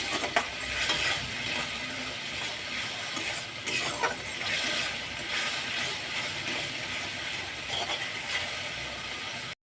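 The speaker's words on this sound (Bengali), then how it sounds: "দু মিনিট নাড়াচাড়া করে কষিয়ে নিয়েছি" Ginger, garlic, onion and tomato paste stirred and fried in a pan for a small-fish curry, with a steady close sizzle and frequent scraping and clinking from a spoon against the pan throughout.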